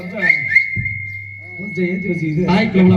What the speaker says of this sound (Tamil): நாங்களும் சேர்ந்து விசில் அடிக்கிறோம்